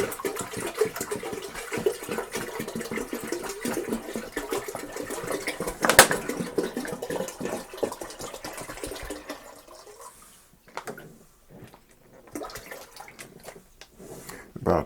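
Water running steadily into a large brewing pot for a one-gallon pilsner batch, a continuous pouring rush that breaks off near the end into a few drips and small clinks.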